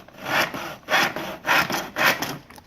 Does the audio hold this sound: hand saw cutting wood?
yes